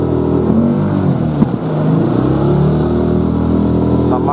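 An outboard motor pushes a small boat along a river in Komi, a loud, close, steady engine drone at low revs with a brief dip partway through and no voices.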